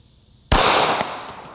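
A 9mm Glock 19 fires one sharp, loud shot into a shaving cream target, the crack followed by a broad, splattering burst that slowly fades over the next second.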